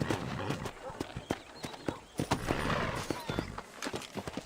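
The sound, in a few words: horse hooves in video game Red Dead Redemption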